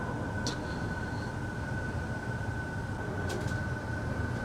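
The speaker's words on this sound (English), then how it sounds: "the train finally finishes going past" Indian Pacific passenger train rolling past with a continuous dense rumble at moderate distance, a couple of brief high squeals or clanks briefly rising above the steady wheel noise.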